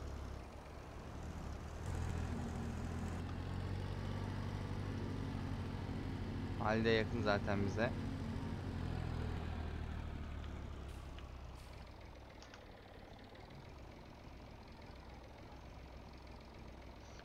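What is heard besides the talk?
tractor engine driving in Farming Simulator 22 video game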